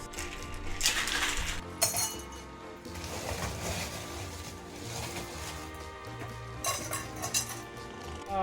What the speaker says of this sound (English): We're going to fill up our glasses with quite a bit of ice.